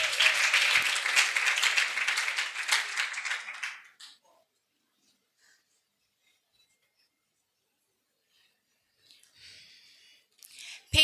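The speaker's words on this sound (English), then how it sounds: "Please, clap your hands for Effa." Audience applause for the slam poet Effa at a women's poetry slam, a burst of hand clapping lasting about four seconds that fades out, then near silence with faint rustling and a brief sound at the end.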